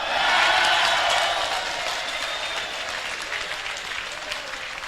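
An audience applauds steadily, loud dense clapping that peaks early and then holds at a slightly lower level for several seconds, with no talking.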